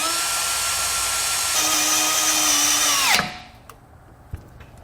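Power drill driving a screw into metal while mounting wiring on a 2016 Jeep: a steady high whine for about three seconds that drops off as the screw seats, followed by a couple of faint clicks.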